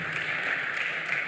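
An audience applauds at a university research and innovation week event, a steady dense patter of many hands clapping with no break.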